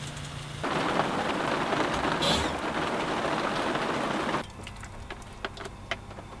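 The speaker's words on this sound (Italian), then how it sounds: "però è iniziato a piovere abbastanza, comunque in modo fastidioso" Rain falls outdoors in a mountain setting, a dense hiss of drops that swells suddenly, holds steady, then drops to a lighter patter with scattered distinct drips near the end; no talking.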